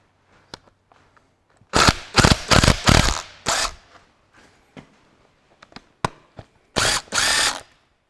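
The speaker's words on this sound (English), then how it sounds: "I'll see if I can get my little nut gun going in here" A small nut gun on the injector pipe support bracket of a Ferguson 23C diesel engine, buzzing in several short rattling bursts with clanks and pauses between, close and loud, no voices.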